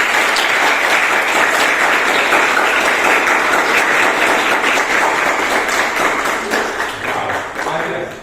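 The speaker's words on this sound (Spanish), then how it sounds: "No esperaba la aplauso así." Sustained audience applause at a storytelling and portrait event, dense steady clapping that continues for several seconds before thinning slightly near the end.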